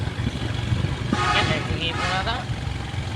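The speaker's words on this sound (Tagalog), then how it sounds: "Itong si Makoy malakas magpatakbo ng motor." A motorcycle roars along at speed with constant engine and wind noise as people talk over the ride.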